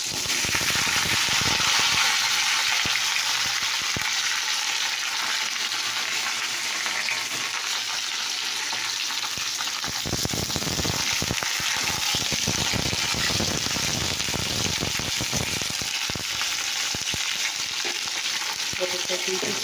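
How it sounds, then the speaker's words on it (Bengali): Pointed gourd (potol) sizzles and crackles in hot oil, a loud, continuous frying hiss with stirring throughout, briefly surging as the pieces settle, with no voices. "তো চলো, আমার তেল হয়ে গেছে, দেখো পটল আমি ছেড়ে দিচ্ছি।"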